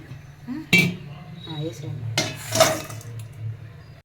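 A metal pot is set down on a kitchen stove to cook jaggery syrup, giving a few sharp clanks and clinks under people talking nearby.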